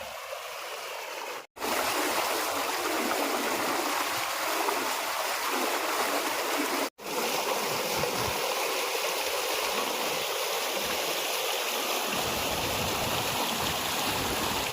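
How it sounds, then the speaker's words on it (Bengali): Water running down through a narrow rocky channel at a sightseeing spot in Daringbadi, a steady close rushing wash broken by two brief cuts, with no voices. "এখানে এটা কি হচ্ছে একটু সরু জায়গা দিয়ে একটু জল নামছে"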